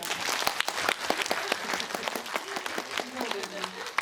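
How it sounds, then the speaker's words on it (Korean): Crowd applause at a fan screening event for a Netflix series, a crisp burst of many hands clapping close by, with voices murmuring underneath. "여러분 큰 박수 부탁드립니다"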